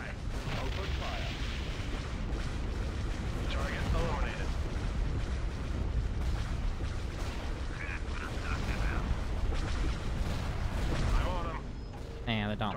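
Space battle weapons fire from the Star Wars strategy game Empire at War (Awakening of the Rebellion mod): a dense, continuous barrage of blasts and booming explosions that stays loud throughout, with a voice talking over it.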